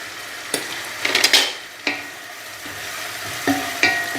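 Salted onion fries in a pan with a soft, steady sizzle. Scattered scraping stirs and light utensil clinks come close and fairly quiet, with no talking.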